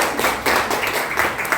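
A high school class claps together for a classmate during a microteaching lesson, a close, loud burst of several quick rhythmic group claps.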